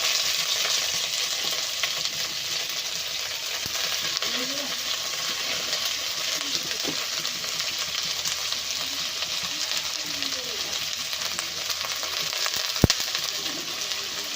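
Shredded cabbage with onion and green chili frying in a pan, giving a continuous loud hiss of sizzling oil with occasional soft stir scrapes and a single sharp clink near the end.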